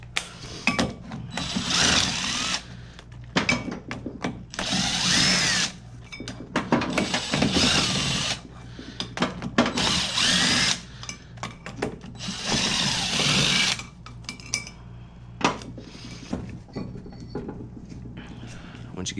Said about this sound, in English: next thing we want to do is to remove these 6 bolts